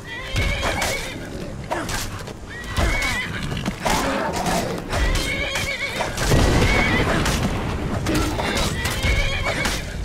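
A horse in the video game Skyrim neighs and whinnies loudly over a steady clip-clop of hooves, with the calls repeating through a busy mix of game sounds.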